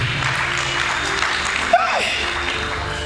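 A church congregation applauds with a steady, dense wash of clapping that stays at an even level throughout, with a brief sharp knock near the middle and voices mixed into the crowd noise.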